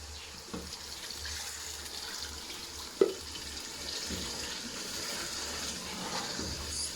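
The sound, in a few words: water poured into cooking pot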